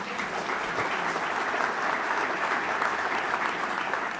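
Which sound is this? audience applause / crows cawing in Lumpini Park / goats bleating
audience applause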